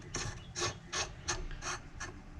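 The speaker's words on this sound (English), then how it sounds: "I'm going to simply screw the muzzle brake on" Muzzle brake being screwed onto a rifle barrel, giving soft ratcheting metallic clicks and scrapes in a loose rhythm of about six turns, close and fairly quiet.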